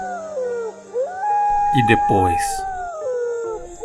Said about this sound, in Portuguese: ele começou a uivar.